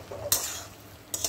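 Potato and pointed gourd curry stirred in a pan, two quick spatula scrapes over a soft background sizzle, close and brief.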